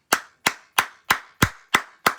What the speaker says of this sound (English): Clap it up for Brother Jakes.